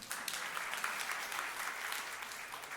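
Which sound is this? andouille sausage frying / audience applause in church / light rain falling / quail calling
audience applause in church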